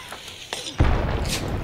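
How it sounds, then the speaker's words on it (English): Dynamite goes off in the video game Hunt: Showdown, a single deep, heavy boom that arrives abruptly after some quieter game noise and rolls out with a rumbling tail. "Dynamite."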